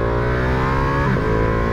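Engine of a 2023 Ducati Panigale V2 motorcycle with its stock exhaust, held at a loud, steady, rich drone close by, with a slight dip and recovery in pitch partway through, no voices.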